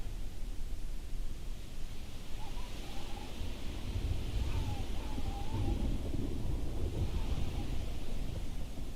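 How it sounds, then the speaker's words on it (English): A heavy storm in the game Kerbal Space Program: a constant loud roar of wind and rain with a low rumble of thunder, and no voices. "it's a heck of a storm, I'll tell you that"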